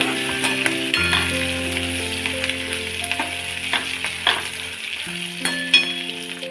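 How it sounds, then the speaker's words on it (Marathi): Green chillies fry with golden-brown potatoes in a pan for sabudana khichdi, sizzling continuously as a spatula stirs and scrapes, with a steady background hum. "त्याच्यामध्ये घालूया हिरवी मिरची। मिरची छान अशी परतून घेऊया।"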